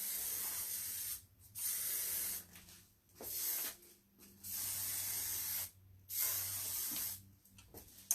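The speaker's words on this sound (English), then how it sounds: "Then I'm going to give it another spray all the way around." Hairspray hisses in five long bursts of about a second each, close and loud, as it is sprayed all the way around a styled head of hair, with short quiet gaps between the sprays.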